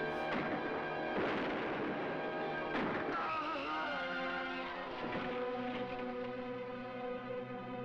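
Gunfire booms and rumbles through a 1951 film scene, with heavy repeated shots sustained over a dense, loud soundtrack.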